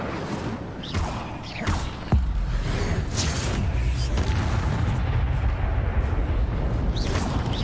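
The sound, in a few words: Incendio fire spell cast in the Hogwarts Legacy video game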